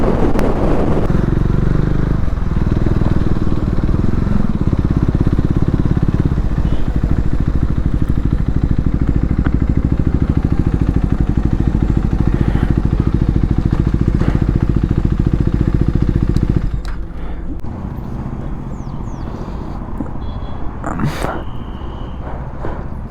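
A motorcycle rides along with a loud, steady engine drone and rushing wind for most of the stretch, then drops to a quieter rumble near the end, with a voice talking over it.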